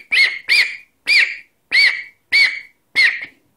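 A handmade shot shell whistle duck call is blown in six short, bright whistled bursts with brief gaps, close and clear against silence.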